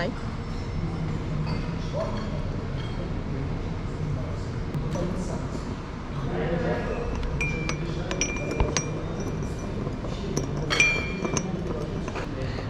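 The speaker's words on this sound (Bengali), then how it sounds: "আমি চিনি গুলে নিয়েছি দু চামচ চিনি দিয়েছি" A spoon clinks against a glass while two spoonfuls of sugar are stirred into tea on a Sri Lankan tea estate, with light ringing taps scattered through steady background noise and talk.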